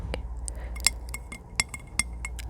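Glass being tapped and a lid being handled, giving a series of sharp, bright clinks and taps at irregular intervals, close and fairly quiet against a still background.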